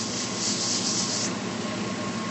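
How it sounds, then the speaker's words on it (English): A pen barrel being sanded on a sanding lathe, a continuous close, loud abrasive rubbing hiss that holds steady with slight swells, no talking. "this is the sanding lathe that we use, and you'll notice that she has this barrel for a pearl mounted on the sanding lathe"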